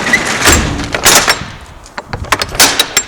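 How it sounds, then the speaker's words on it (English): A truck trailer door on a Class A rig is worked open and shut during a pre-trip inspection, giving loud metallic bangs, clanks and rattles in an irregular series up close. "I'm going to open my trailer door"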